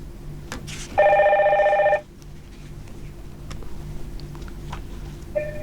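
A telephone rings once in a short bright electronic trill for an incoming caller, loud and close, and a fainter ring starts at the end.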